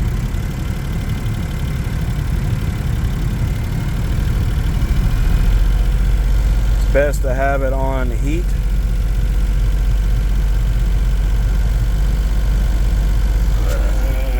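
A 2012 Smart fortwo engine idles with a steady low hum and rumble throughout while a person speaks briefly in the middle.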